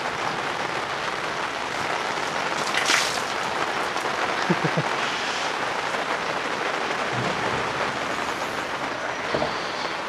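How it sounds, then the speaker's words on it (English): Rain falls in a steady, dense hiss that stays even throughout, with a few faint knocks and a brief distant hum underneath. "Here comes the rain again."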